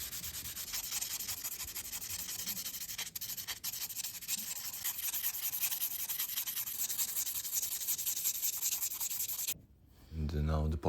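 Sandpaper rubs back and forth across a worn Tissot watch case, a continuous dense scratchy rasp with rhythmic strokes, close and steady, briefly stopping near the end before a low tonal sound.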